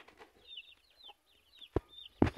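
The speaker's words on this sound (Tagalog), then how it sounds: "Nakita po nyo yung manok" Chickens cluck softly nearby in short scattered calls, with a couple of sharp louder knocks near the end.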